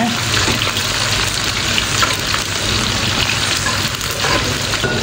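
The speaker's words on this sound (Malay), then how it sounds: "Sekarang jom kita goreng ni dulu." Loud, continuous sizzling and crackling of food frying in hot oil, a dense steady hiss with popping bursts throughout.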